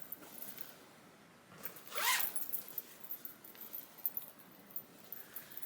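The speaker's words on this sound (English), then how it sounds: "These are double zipper pulls." A double zipper pull on a fabric project bag, a Lori Holt Be Happy zipper, gives one quick, close zip, standing out against quiet room noise.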